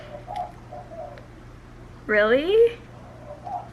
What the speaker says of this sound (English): Don't film in the same room that your birds are in.